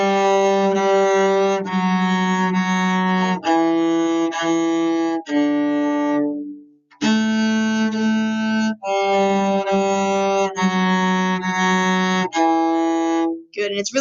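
A solo cello plays a sustained, bowed melody of long connected notes, the full top line of a beginner lesson piece, close and steady with one brief pause midway and no talking.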